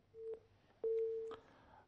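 Telephone busy signal after a dropped call: two short steady electronic tones, the second one longer, close and clear against near silence.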